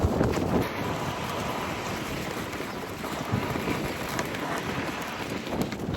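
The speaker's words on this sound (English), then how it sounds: "it's very warm, very windy" Strong wind buffeting the microphone during a warm bike ride on Lanzarote, a steady low roar with gusty swells throughout and no voices.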